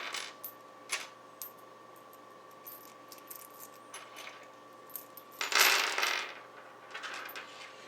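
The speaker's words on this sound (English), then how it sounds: "these are the cam locks screws. There should be 8 as well" Small metal cam lock screws from an IKEA BESTA shelving kit clink and rattle against each other in a series of sharp, close, light taps, with one longer jangling burst near the middle and no talking.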